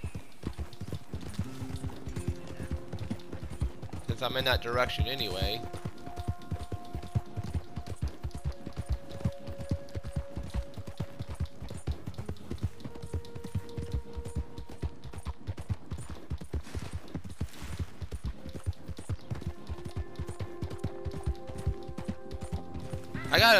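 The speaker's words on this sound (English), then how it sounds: "Well, get back on my horse." A horse in Red Dead Redemption 2 runs along with fast, steady hoofbeats that continue throughout, close and clear, while someone talks over it and background music comes and goes.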